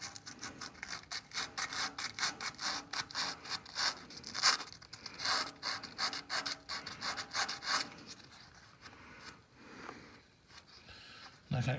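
Sandpaper scrubs the old sheet metal of an Oliver 60 tractor in quick, repeated rasping strokes, close and fairly loud, that slow and thin out toward the end.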